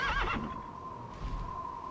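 Horse in a video game whinnies loudly at the start, a short shaky neigh followed by soft hoof clops and a low hum.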